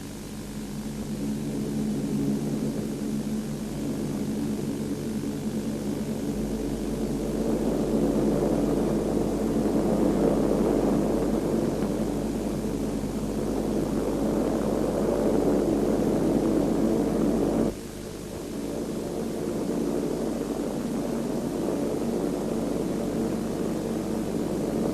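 A formation of Soviet bombers takes off, giving a steady, heavy roar of propeller engines that swells and fades slightly over a long stretch. The sound is continuous and broadband, and no voices can be heard.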